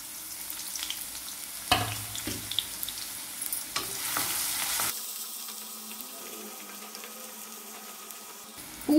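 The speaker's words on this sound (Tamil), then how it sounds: "இப்போ எண்ணெய் சூடானதும் பொடியா கட் பண்ண பூண்டு சேர்த்திடுறேங்க." Chopped garlic hits hot olive oil in a pan for Schezwan veg noodles, giving a burst of sizzling and frying that settles into a steady, moderate crackle with a few stirring clatters, close by and with no talking.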